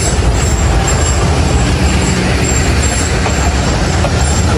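A passenger train with a single locomotive passes on the Faridpur to Bhanga line in Bangladesh. It makes a loud, continuous, close rumble with a faint high whine above it.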